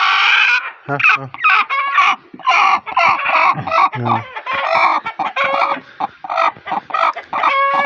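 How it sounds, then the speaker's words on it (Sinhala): A hen clucks and cackles loudly and close after laying an egg, a long run of repeated squawking calls with brief pauses in between. "ඔය පේන සද්දේ තමයි බිත්තර දාලා දන්නේ"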